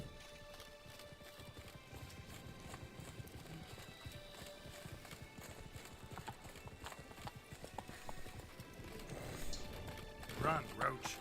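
Roach, Geralt's horse in The Witcher 3, gallops with a fast, steady clip-clop of hooves throughout, building slightly louder toward the end, with a brief voice at the close.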